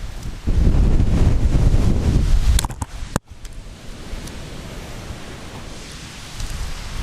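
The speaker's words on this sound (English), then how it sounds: "It's pretty windy." Strong gusts of wind buffet the microphone with a heavy low roar, then ease into a softer, steady rustle after a brief cut.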